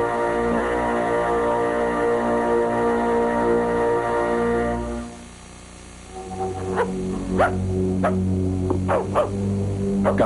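A dog in the animated woodland series Animals of Farthing Wood barks several times in short sharp bursts after a steady droning passage, loud and close, with no talk over it.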